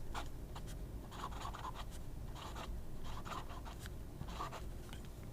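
A fountain pen with a standard medium nib scratches across paper in quick, uneven strokes and short pauses, faint and close, alone without talk.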